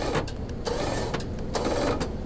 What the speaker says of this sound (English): with this winch, we're gonna try to unbend this